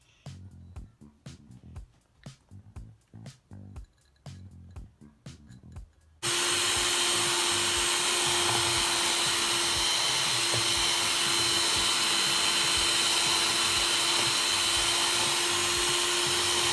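An electric hand mixer whirs steadily and loudly, beating creamy chocolate cupcake batter with egg, after about six seconds of quieter intermittent mechanical taps and knocks.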